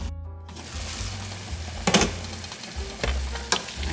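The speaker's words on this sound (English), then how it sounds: "My ground beef is cooking." Ground beef sizzles in a frying pan on a home stove, a constant close crackle with a few sharp scraping stirs of a utensil against the pan.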